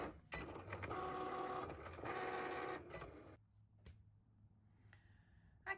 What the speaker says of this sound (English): just simply press that Cricut button again.